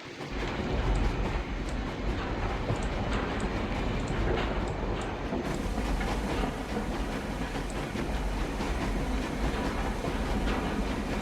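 A video game train rumbles along steadily with a continuous low roar and faint rhythmic clatter, loud and unbroken, with no voices.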